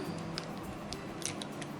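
Scissors snipping open a Perlaking product packet, a few quick crisp clicks close by over a steady hiss, with no talking.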